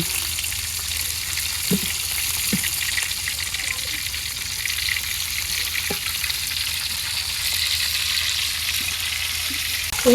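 Flat beans frying directly in hot oil, unboiled, for a village-style mash: a steady crackling sizzle runs throughout, with a few soft clinks of a utensil against the pan scattered across it.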